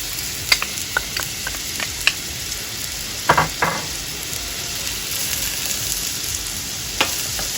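Green and red peppers sizzle steadily in a pan, a soft continuous frying hiss broken by a few sharp clicks and taps from stirring.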